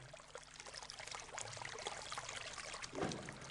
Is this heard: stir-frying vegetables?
no